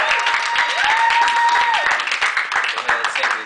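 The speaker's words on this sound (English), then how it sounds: "So give a clap for my winners here," Audience at a live show clapping for contest winners: steady, close applause filling the whole stretch, with voices and a brief whoop or cheer mixed in.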